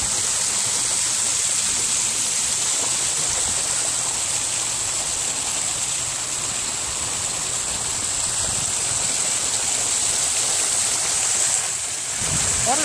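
A clean outdoor water feature stream flows in a constant, full rushing wash that stays close and steady throughout, a bright hiss with no pauses, while faint background noise sits underneath.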